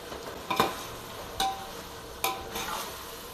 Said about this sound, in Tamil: வெங்காயம் தக்காளி இஞ்சி பூண்டுலாம் நல்லா வதங்கிடுச்சு